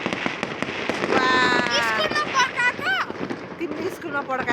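Firecrackers bursting outdoors, sharp cracks and pops scattered through the clip with a whistling, rising tone in the middle, under a steady background of wind and crowd noise.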